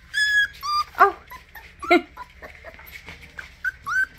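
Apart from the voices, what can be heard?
puppies whimpering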